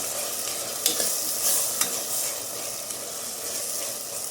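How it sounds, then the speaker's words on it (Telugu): Masala paste sizzles and fries in hot oil for a mutton drumstick curry, a steady close hiss with a few scraping stirs of a spoon against the pan. "ఇది కొంచెం పచ్చివాసన పోయే వరకు ఇలా ఆయిల్లో ఫ్రై చేసుకున్నాం"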